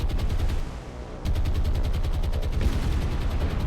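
Bombs strike a destroyer in the naval war game War on the Sea, producing a loud continuous roar of blasts and gunfire-like bursts with a brief dip before the noise surges again.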